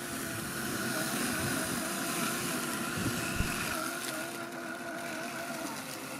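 Sunseeker X7 robotic lawn mower driving over tall, wet grass, a steady whirring motor hum with grassy swishing, close and continuous for several seconds.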